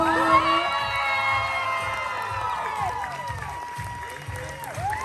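An audience at the April Bankstown Poetry Slam cheers for the first-place poet, with loud whoops, high shouts and clapping blending into one excited roar that gradually thins out.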